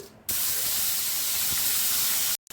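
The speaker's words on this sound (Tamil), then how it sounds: "வெங்காயம் தக்காளி ரெண்டும் சேர்த்து நல்லா வதக்கிக்கோங்க" Onions and tomatoes with spices sizzle steadily while frying for mutton curry, a loud continuous hiss that cuts in abruptly, holds evenly with faint stirring knocks, then stops suddenly.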